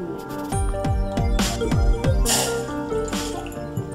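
Water poured from a glass into rice in a pot for Andhra bellam rotti, a run of close drips and splashes that builds into a steadier trickling pour, with no talking.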